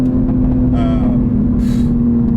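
Toyota Supra A90 accelerating on LA streets, heard from inside the cabin: a loud, steady low engine drone with a constant tonal hum, brief rising harmonics, and a short hiss of noise near the end.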